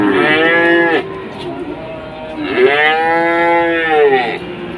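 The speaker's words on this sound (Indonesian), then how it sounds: "Masih di deretan sapi-sapi bakalan." Feeder cattle, including Limousin crossbreeds, moo loudly and close at the Wirosari cattle market in Grobogan, two long drawn-out calls separated by a brief lull with market chatter faint behind.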